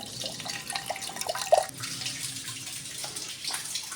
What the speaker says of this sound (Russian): Самая чистая вода в мире. Можно пить.